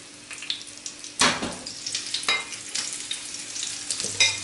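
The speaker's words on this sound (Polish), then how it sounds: "smażymy z jednej i z drugiej strony" Steady crackling sizzle of battered pineapple frying in hot fat, close up, with a few sharper pops and stirring clatters along the way.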